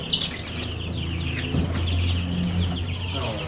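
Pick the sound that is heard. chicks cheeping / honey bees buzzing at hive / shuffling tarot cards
chicks cheeping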